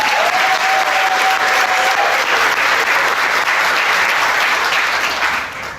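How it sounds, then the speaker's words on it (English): A room of business attendees at a Chamber of Commerce luncheon in Franklin County applauds loudly and steadily, dense clapping throughout that starts to fade at the very end. "We need to give a round of applause to Jessie Dean because she is a superstar."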